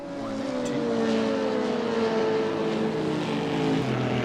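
Racing cars in the Raceroom sim racing game, GTR2-class machines including Cadillacs and a BMW at Monza, give a steady loud engine drone with pitch sliding down and up through the gears as they brake and accelerate through a chicane.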